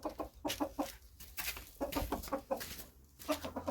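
Chickens in a farmyard cluck steadily while pecking at scattered grain, a busy run of short, near clucks and calls with no voices.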